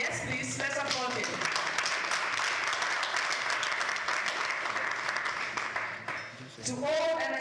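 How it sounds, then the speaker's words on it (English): An audience at an award event breaks into sustained applause, dense clapping filling the space with a few voices mixed in, fading briefly near the end before swelling again. "To all, yes please, let's applaud him."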